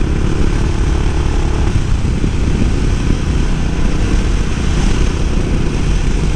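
A Suzuki motorcycle engine drones steadily while riding on a winding mountain road, a loud continuous rumble with wind noise and no talking.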